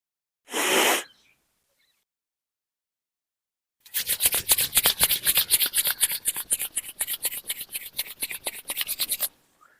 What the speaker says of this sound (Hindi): फिर हाथों को रगड़ें